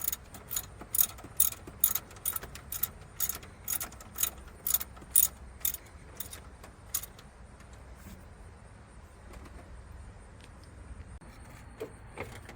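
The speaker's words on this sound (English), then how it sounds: "Now we're tightening the bottom bolts." A ratchet clicks in quick, regular bursts while tightening the bottom alternator bolts on a 2002 Ford Crown Victoria, close and fairly quiet, with the clicking stopping about halfway through and faint workshop noise remaining.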